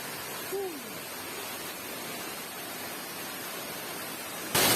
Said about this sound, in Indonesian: Jadi kita udah sampai di air terjun Suat Waterfallnya